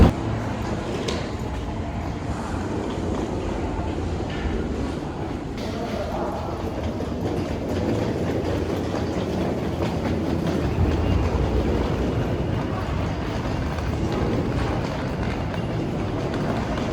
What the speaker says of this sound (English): there goes our last subway in New York City